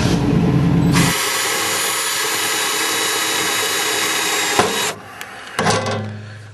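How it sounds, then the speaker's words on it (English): Power drill boring holes in a metal cover plate for a 1995 Camaro Z-28 fuel pump access door, a loud, close, high whine that holds steady for several seconds, then stops and restarts briefly. "Okay, I'm drilling the holes for this plate"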